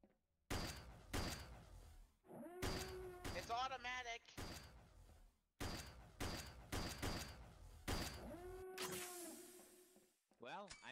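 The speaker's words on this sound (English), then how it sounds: "it is a shotgun, and it seems like it works pretty good at close range" Several sharp shotgun blasts in a Garry's Mod Star Wars RP game, fired at close range in irregular bursts, each a loud broadband crack, with talking in between.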